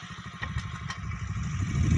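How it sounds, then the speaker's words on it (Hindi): Motorcycle engine running close by in rural Cholistan, a steady low idling rumble with uneven clatter that grows slightly louder toward the end, no talk. "ये मेरा ड्राइवर है, ये मोटरसाइकिल है"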